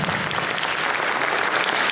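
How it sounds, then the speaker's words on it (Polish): Warm audience applause at a televised Polish tribute show to Violetta Villas, a dense steady roar of clapping filling the room from start to end without talk. "Brawo, brawo, kochani! Gorące brawa!"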